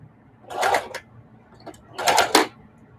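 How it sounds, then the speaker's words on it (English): A sewing machine stitches quilting lines on a small mug rug, two short whirring bursts of stitching separated by a pause, close up and fairly loud, with no talking. "I'm going to try to sew between the ladies."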